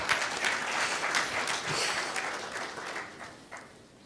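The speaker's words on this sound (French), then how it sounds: "On peut les acclamer" Audience applause at a conference lecture, steady clapping from a crowd in a hall, fairly loud and sustained, tapering off toward the end.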